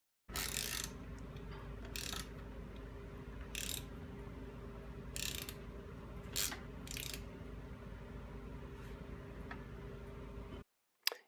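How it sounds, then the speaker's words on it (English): A wrench ratchets as a motorcycle engine crank is turned clockwise, giving several short clicking bursts over a steady low mechanical hum, close and fairly quiet, with no talk. "Then continue to turn the wrench clockwise, 1/2 turn."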